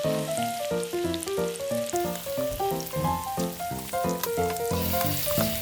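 Garlic and onion sauté in a pan, giving a continuous crackling sizzle partly masked by louder background music.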